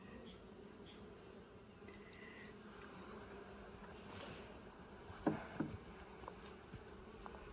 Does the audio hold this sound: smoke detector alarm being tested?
no